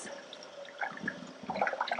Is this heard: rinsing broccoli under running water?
yes